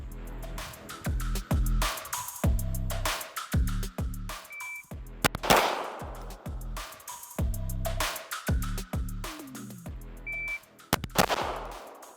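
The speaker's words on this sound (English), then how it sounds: "the first sequence is going to be from this kind of heightened ready position, 2 shots" Staccato XC and SIG P320 Spectre Comp pistols fire in rapid pairs of loud, sharp shots at a range, with shot timer beeps between the strings and echoing reports, and no talking.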